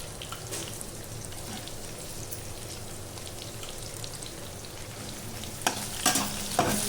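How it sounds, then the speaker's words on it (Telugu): Green chillies and cucumber frying in a pan, a steady close sizzle and crackle throughout, with a few sharper spatters and stirring scrapes near the end. "పచ్చిమిర్చి వేసుకొని పచ్చిమిర్చి దోసకాయ మగ్గేంత వరకు వేయించుకుందాం"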